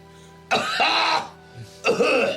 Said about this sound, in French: Est-ce que c'est celui qui tousse?